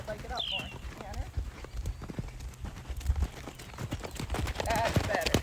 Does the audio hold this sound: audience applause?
no